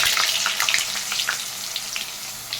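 Potatoes fry in hot oil with whole cumin, bay leaf and dried chili, giving a loud crackling sizzle with scattered pops and a few stirring scrapes, close by.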